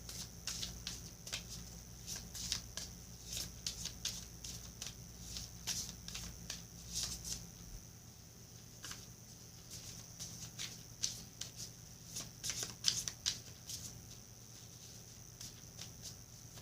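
A small healing and meditation oracle card deck being shuffled and cut by hand, soft papery riffles and slides repeating in uneven bursts, fairly faint and close, with no talking.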